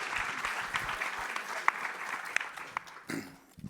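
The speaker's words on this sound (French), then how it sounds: "Oui, on peut applaudir." Brief applause from the audience at a conference on harm reduction in care settings: a short burst of clapping with a few sharper claps standing out, trailing off after about three seconds.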